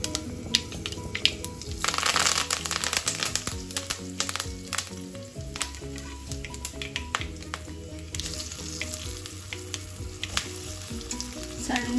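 Mustard seeds spluttering in hot oil with curry leaves and eggplant added for a brinjal masala curry: loud continuous sizzling and frying with sharp crackling pops and occasional stirring clatter, no talk.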